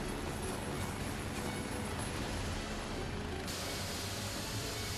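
Steady, loud broadband roar fills the cabin of a moving medical helicopter flying a patient from Namwon to Iksan, unbroken throughout with no clear voices.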